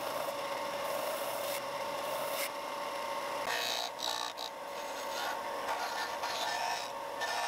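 A tool cuts a lip out of thin 1/16 inch Lexan sheet for a homemade deep-diver fishing lure, making a continuous raspy scraping and grinding that wavers and pauses briefly partway through, close up and without talk.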